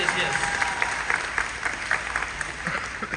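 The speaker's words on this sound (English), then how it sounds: "Clap for that" An audience at a Star Wars convention panel claps, a moderate, somewhat distant patter of many hands with scattered louder claps, steady for a few seconds.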